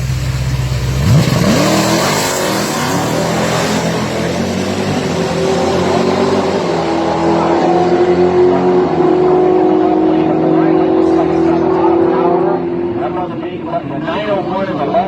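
Two supercharged Dodge Hellcat drag cars launch together and roar away down the strip, a loud sustained engine howl that fades near the end, under an excited commentator's voice.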